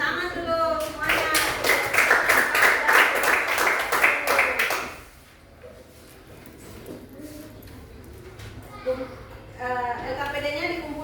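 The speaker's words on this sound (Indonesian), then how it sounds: "Oke, tepuk tangan dulu semuanya." Students in a classroom clapping together in a brisk, rhythmic burst for several seconds, then it fades to quiet room noise, with children's voices talking over the end.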